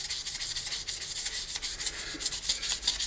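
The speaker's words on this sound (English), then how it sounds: "The more time you spend sanding, the better looking pen you come up with." Pen being sanded with 220 grit sandpaper, giving a close, steady gritty rubbing in quick back-and-forth strokes with a hissy, scratchy texture and no talking.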